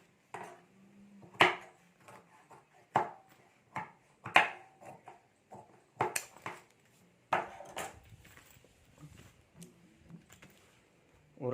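Excess lining fabric on a clutch bag trimmed with scissors, a series of sharp, separate snips and soft taps spaced a second or so apart, close and fairly quiet in a still room.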